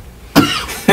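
A single sharp cough, then the start of a second cough right at the end, close and loud against quiet background.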